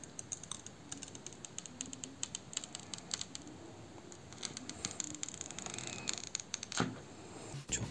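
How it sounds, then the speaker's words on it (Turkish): Protective plastic film being peeled off the front of a new Samsung Galaxy S21 during unboxing: faint, close crinkling and rapid crackly ticks that run for several seconds in a quiet room. "Şimdi ön tarafın jelatini sökmekte."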